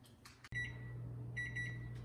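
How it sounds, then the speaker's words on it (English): A kitchen timer beeps in two bursts of steady high tones while a keto New York style vanilla cheesecake bakes, with a loud, steady oven hum running underneath. "the timer's beeping for the first 45 minutes"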